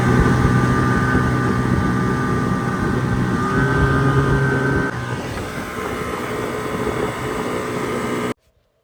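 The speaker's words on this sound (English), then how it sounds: "my boat motor was running, so you're probably not gonna be able to hear me in this clip" Small boat outboard motor running on a river during catfish fishing, a steady droning hum with tonal whine, constant and close, cutting off abruptly at the end.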